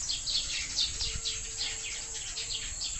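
Outdoors at harvest time, small birds chirp and twitter faintly in a scattered, repeating pattern against a steady insect-like hiss, with no one talking.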